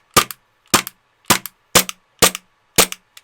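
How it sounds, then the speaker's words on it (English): An AAP-01 green gas airsoft pistol fires six sharp, close shots, each a crisp crack with a short metallic follow-up click, at a steady pace of roughly one every half second. "I wonder what the volume difference is like between this and the Glock itself. Let's just quickly do a few shots to see."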